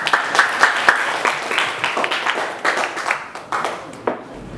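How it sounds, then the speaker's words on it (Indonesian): Classroom applause for a student group, a small group of hands clapping close by in a loose, uneven rhythm with distinct sharp claps, tapering off toward the end. "tepuk tangan untuk kelompok 4"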